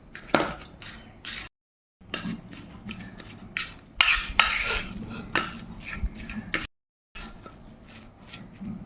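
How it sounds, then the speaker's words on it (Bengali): A spoon clinks and scrapes against a bowl while shrimp filling is mixed into mashed boiled potatoes for stuffing large chillies, the irregular knocks and scrapes coming close with brief silent gaps. "এটা একসঙ্গে ঢেলে দিয়ে এখন এটাকে একটু পাইল করে নেব।"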